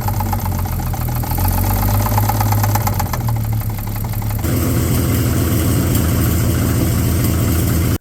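A 1950 Chevy engine runs roughly and labors with an uneven, knocking beat, loud and close, and its tone shifts abruptly partway through as it keeps struggling.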